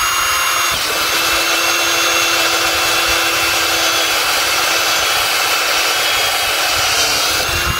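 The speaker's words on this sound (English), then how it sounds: "I'm just gonna drill that spot out on the back of the lid" A steady, loud power-tool whine drones on without a break, a hole saw grinding continuously through a lid at close range.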